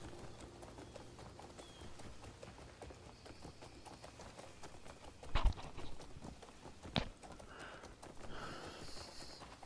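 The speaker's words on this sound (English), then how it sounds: "Some wild horses here" Wild horses' hooves clip-clop steadily through a video game landscape in a continuous patter, joined by a couple of louder thumps and a faint snort near the end.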